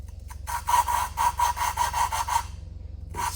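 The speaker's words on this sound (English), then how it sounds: "So what we're trying to do is spin the valve to actually create the friction in here." An engine valve is spun back and forth against its seat during re-lapping, producing a close, rhythmic gritty rasp like sandpaper in quick strokes that stop briefly before starting again.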